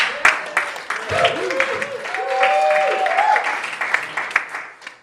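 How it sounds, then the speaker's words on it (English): Comedy club audience applauding a headliner at a comedy festival, a burst of clapping and crowd noise with an overlapping tonal sound, fading and turning patchy toward the end. "give him a really big round of applause"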